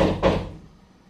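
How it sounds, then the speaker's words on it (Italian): A single loud, close thump on a door, like a knock or bang, fading quickly into quiet. "Hanno bussato la porta?"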